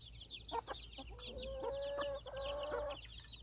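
Two backyard hens cluck and make soft drawn-out murmuring calls in short bursts, close by over a low background hum.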